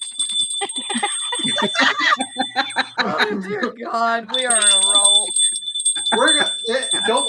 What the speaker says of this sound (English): That was the dog bell ringing.